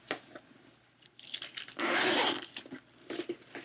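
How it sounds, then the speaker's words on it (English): Close handling rustles and clicks, then a zipper pulled in one steady stretch, followed by more light fumbling. "There's a zipper here."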